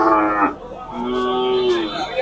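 Desi cattle at a busy Sylhet cattle market lowing in long, deep moos, one after another, close and loud, with faint crowd murmur behind.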